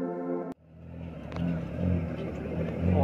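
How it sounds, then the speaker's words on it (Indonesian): Car passing on a mountain forest road, its engine rising into a rumbling pass close by after a sharp click, with a voice briefly heard at the start. "Mobil lewat."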